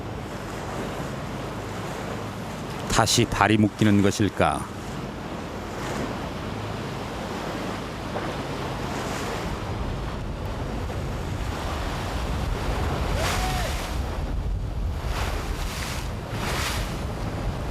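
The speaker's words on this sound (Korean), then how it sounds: "파도가 심상치 않다" Rough surf rolls and crashes against the rocky shore of Chujado island under storm warnings, a steady roar mixed with wind buffeting the microphone, while a voice briefly speaks over it early on.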